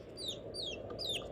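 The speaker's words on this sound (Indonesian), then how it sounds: "Dia mendengar anak ayam, tambah takut lagi dia." Three thin, high, descending peeps from baby chicks, close and fairly clear over a low background hum.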